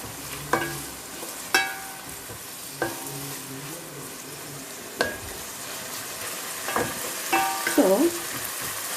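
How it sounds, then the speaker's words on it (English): Fish curry ingredients frying in a pan while a spatula stirs them, with a low sizzle under a series of sharp scraping and clinking strokes of the spatula against the pan, spaced a second or more apart. "Now with this spatula, I have to stir it like this."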